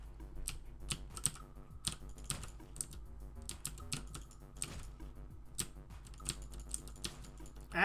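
Rapid, uneven keyboard clatter from a computer keyboard in use during a fast video game match, with sharp clicks close by over a low steady hum, no talking.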